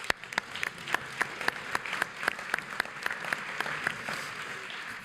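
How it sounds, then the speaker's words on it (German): Applause from a conference audience for a panel of speakers at a German investment forum, a steady run of dense hand clapping with sharp individual claps standing out, held for the full stretch without voices. "Applaus nochmal für alle."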